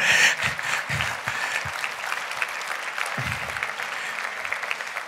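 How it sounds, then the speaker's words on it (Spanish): A church congregation claps and applauds steadily for several seconds, warm and sustained, with faint cheering mixed in. "un aplauso al Señor."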